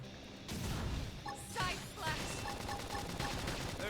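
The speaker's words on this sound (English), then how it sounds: "Gunfire." Gunfire in the action game Xenoblade Chronicles X, a rapid series of shots and bursts during combat that starts after half a second and continues steadily over a dense, busy game mix.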